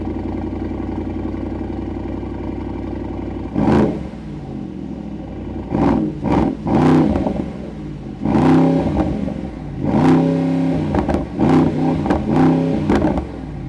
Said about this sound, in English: get to enjoy the V8 and sound of the V8. By the way, let's listen to it.